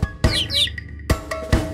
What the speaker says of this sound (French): petit oiseau, petit oiseau,